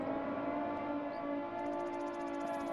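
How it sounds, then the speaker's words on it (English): A siren in an anxiety simulator game, like a tornado warning, sounds as a sustained two-tone wail, fairly faint and steady, with a light high pulsing entering partway through. "That reminded me of tornado sirens"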